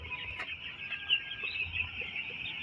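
Nine-day-old broiler chicks in a winter brooding house give a steady, dense chorus of high peeping and soft clucking, continuous and fairly close throughout, with no talking.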